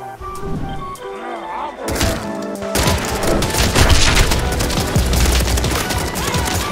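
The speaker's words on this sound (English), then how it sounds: "Modern Warfare Explosion Sounds is a mod that replaces explosion sounds for debris, Batman explosions, and car explosions." Explosions from a Modern Warfare sound-replacement mod for Fallout 4, covering debris and car blasts: a loud, dense run of booming blasts and rattling fusillade-like bursts that builds after a quieter start and keeps rolling throughout.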